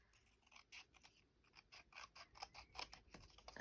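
Quiet, crisp snips of scissors cutting, a rapid series of short clicks and slices close by, with no talking.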